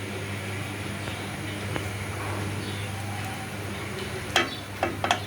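Rohu fish and potatoes fry in a pan with a steady, soft sizzling hiss, and a few sharp utensil clinks come near the end.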